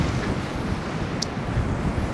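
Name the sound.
strong wind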